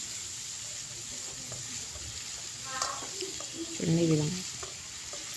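Tomatoes fry in a pan with a soft, steady sizzle and a few faint stirring sounds, while a person talks over the cooking.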